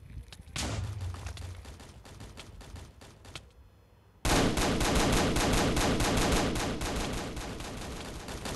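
Video game addon battle with Siren Head and SCP creatures: sparse gunshots at first, then from about four seconds a dense, loud, sustained barrage of rapid gunfire.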